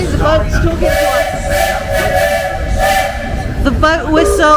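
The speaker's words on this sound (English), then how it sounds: "The boat whistle and the train whistle are communicating." At Magic Kingdom, a steam paddle boat whistle sounds a long, loud sustained blast, answered by shorter whistle toots from a train, with chattering voices and crowd noise underneath.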